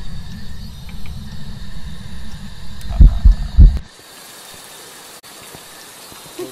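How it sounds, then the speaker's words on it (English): Heartbeat sound effect in the Phasmophobia horror game: a few heavy, low thumps over a rain-like rumble, then cutting off into near silence. "the heart, my heart beat in the game"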